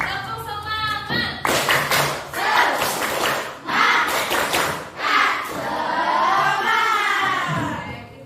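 Schoolchildren in a classroom doing a rhythmic spirit clap, loud bursts of claps in patterned groups mixed with their shouted chant, the children calling out together between and during the clapping, close and energetic.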